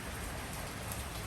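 Rain falls in Los Angeles, a dense, even hiss of drops on surfaces lasting the whole short stretch at a quiet level, with no other sounds.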